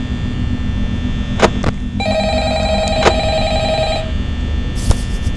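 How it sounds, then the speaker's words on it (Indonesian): A telephone rings in the Friday Night at Freddy's video game, a steady repeating electronic ring sounding loud and close over a constant low hum, with a few sharp clicks around it. "Ada telepon lagi guys. Oke, kita dengerin dulu teleponnya."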